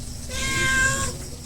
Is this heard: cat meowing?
yes